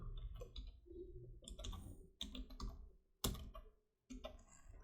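A computer mouse is clicked, giving several faint, sharp clicks at irregular spacing in a quiet room.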